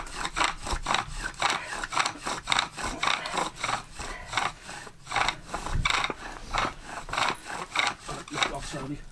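Rhythmic back-and-forth rasping of a wooden bow drill rubbing on wood to make fire by friction, steady strokes about twice a second, close by, with faint breathing between strokes.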